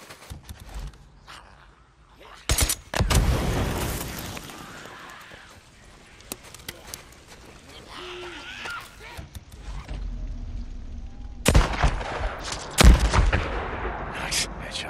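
Several sharp gunshots ring out in the Days Gone video game, with a pair of close bursts early and another cluster near the end, mixed with ambient game sounds and movement noise.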